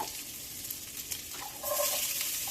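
Diced onion goes into a pan of browned meatballs; a soft, steady sizzle swells noticeably louder partway through as the onion hits the hot fat.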